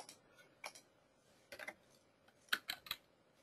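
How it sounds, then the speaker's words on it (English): Sparse keyboard typing, a few scattered keystrokes followed by a quick burst of clicks near the end, close and fairly quiet. "So I start typing in EU."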